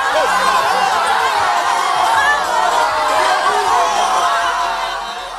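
A large, lively crowd gathered at Gervinho's football tournament in Abobo keeps up a continuous din of chatter, laughter and cheering, loud and steady throughout with no single voice standing out.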